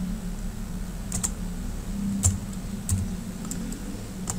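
Typing on a computer keyboard while entering a spreadsheet formula: a few sparse, light key clicks and taps, close and fairly quiet, over a steady low hum with no talking.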